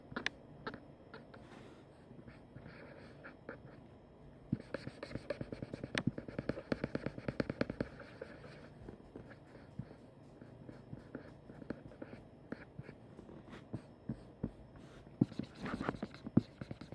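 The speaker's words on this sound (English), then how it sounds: "This time it's just the sounds of my house and my drawing" Pen or pencil drawing on paper at home, a soft steady scratching with short strokes and taps, close and quiet, with faint household background noise.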